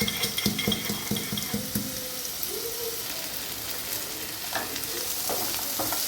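Ginger and garlic sizzling and frying in a pan, with a brisk run of stirring scrapes at the start giving way to a steady hiss.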